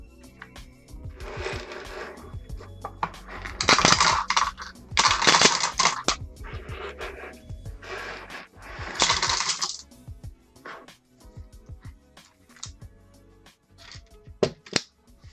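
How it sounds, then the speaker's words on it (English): Screws drop into a magnetic parts tray as a series of sharp metallic clinks and rattles, some in quick clusters and others spaced apart, with soft handling rustle between them. "Stick all the screws in there and out of the way."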